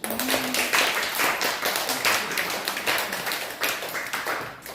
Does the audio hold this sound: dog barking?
no